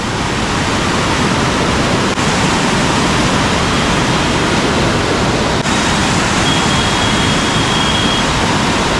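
Swollen Ganga floodwater in Rishikesh pounds against a bridge pillar in a dense, unbroken roar, loud and close, with no voices over it.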